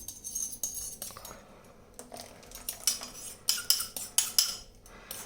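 A utensil stirs melted butter into crêpe batter in a bowl, giving repeated light clinks and scrapes against the dish in an irregular, quickening rhythm, close and fairly quiet, without speech.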